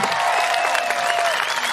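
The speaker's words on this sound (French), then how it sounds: "Allez, on applaudit." A crowd at a woodcutting festival in Sainte-Christine, France claps steadily in dense, continuous applause, with a faint whistle-like tone and scattered voices mixed in.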